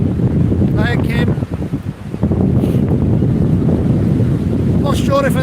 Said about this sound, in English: I'm not sure if anyone can hear me with this wind.